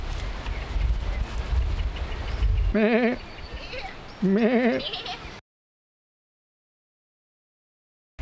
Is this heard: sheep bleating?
yes